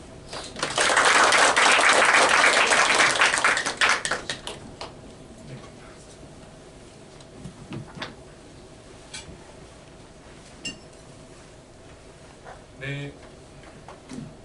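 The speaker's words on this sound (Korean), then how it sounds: "우리 전희영 교수님 나오실 때 큰 박수로 맞아 주시기 바랍니다" Audience applause welcoming an invited professor to the stage at an energy-policy lecture, a dense burst of clapping for about three seconds that quickly fades to quiet room noise with a few scattered sounds.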